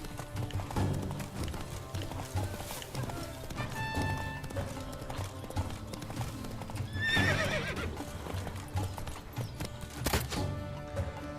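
A horse gallops with rapid clip-clop hoofbeats in the video game The Witcher 3: Blood and Wine, with a loud neigh partway through, all over busy game music and effects.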